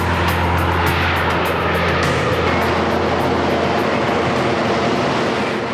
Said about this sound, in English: To help them slow down, the pilots direct the Harrier nozzles forwards.